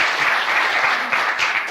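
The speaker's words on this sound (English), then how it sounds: "Please applaud them." An audience at an inaugural university lecture claps steadily, a dense, even patter of many hands filling the room, with no voices over it.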